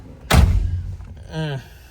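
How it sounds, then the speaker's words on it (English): A single solid thud comes as the car door of a 1972 Chevrolet Nova shuts close by, followed by a short spoken sound. "Close the door here."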